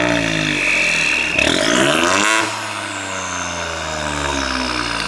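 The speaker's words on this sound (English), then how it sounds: "Do you want to start the car up?" A tuned 1.0-litre Ford Fiesta with a Miltech non-resonated exhaust idles and is blipped, the revs sweeping up sharply then dropping back to a steady, loud idle close by.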